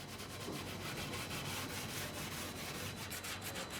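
Sandpaper scrubs old lacquer off a wooden piece during urushi restoration work in Kyoto, a steady, continuous gritty rubbing with quick back-and-forth strokes, close up and alone.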